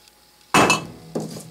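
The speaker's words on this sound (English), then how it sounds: "So let's give it a light tap and see what we get." A light hammer tap strikes a metal casting with a transfer screw fitted. One sharp, close ringing hit is followed by a second, quieter tap.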